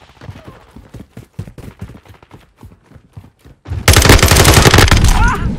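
Rapid gunfire in Call of Duty: Modern Warfare II Domination mode, spaced single shots at first, then a loud sustained automatic burst close by.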